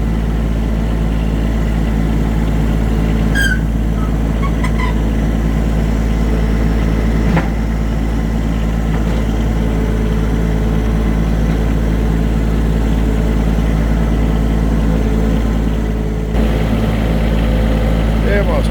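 A farm tractor engine runs at a steady idle, a loud, constant low drone that continues for the whole stretch with a few faint clanks and knocks over it.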